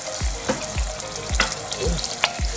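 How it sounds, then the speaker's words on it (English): About half a mug of water is poured into a pan of onions frying over high gas heat, setting off a loud sizzle broken by repeated splashing pops and hisses. "So I'm just going to add about half a mug of water in here"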